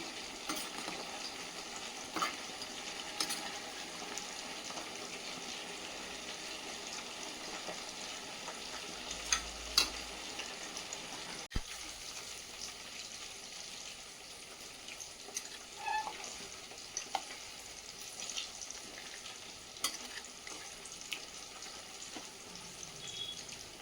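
Green chicken kulambu cooks in a pan with a soft, continuous sizzle and bubbling. Occasional light clicks and taps sound over the steady low hiss.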